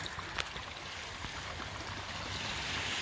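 Storm water sheets off a road and pours out of a driveway during a storm, a steady broadband rush and trickle of flowing water that holds constant and builds slightly toward the end, with no talking.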